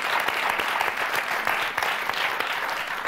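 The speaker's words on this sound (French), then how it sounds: "Et on va vous applaudir très fort," Studio audience of the French TV game show Motus breaks into steady, loud applause, a continuous dense clapping with a few sharper close claps, no speech over it.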